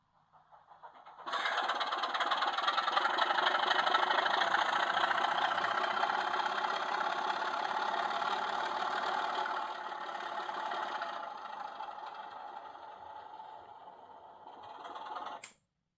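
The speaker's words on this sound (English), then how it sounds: "It's certainly going to be a novelty to have a locomotive making sound in my layout" Steady diesel engine sound from a model Class 24 locomotive, a continuous rumbling hum that idles for many seconds before cutting off abruptly.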